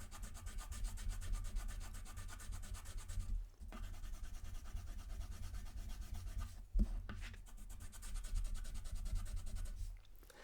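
A pen draws a star shape on paper in a soft ASMR setting, giving a continuous close scratchy rubbing that runs in long strokes broken by a few brief pauses, quiet and with no talk.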